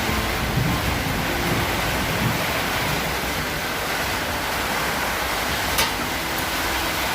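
A tropical storm with strong wind and heavy rain sweeps through the town of Selatpanjang, a dense, steady roar of rushing wind and pouring rain with no break.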